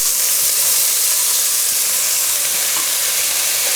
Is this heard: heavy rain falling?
no